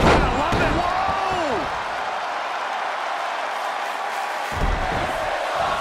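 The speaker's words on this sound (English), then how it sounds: "The roar of this crowd has been building, and they are at a fever pitch right now." Wrestling arena crowd in the video game WWE 2K20 roaring at a fever pitch, a loud sustained wash of cheering with an impact slam and whooping at the start, and a voice commentating over it.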